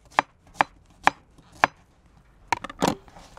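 Knife slicing onion into half rings on a cutting board: four evenly spaced sharp chops, then a quicker cluster of cuts, close and crisp with no talking.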